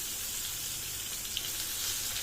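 Steady, close sizzling of eggplant frying in hot oil, a continuous hiss with no talking.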